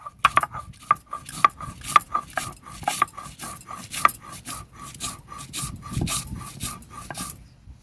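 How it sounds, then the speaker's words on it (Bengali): Black pepper and dried red chillies ground together by hand, a steady run of rhythmic rasping strokes, close and fairly even in pace, grinding continuously before stopping near the end. "গোলমরিচ, শুকনো লঙ্কা আমি একসাথে বেটে নেব।"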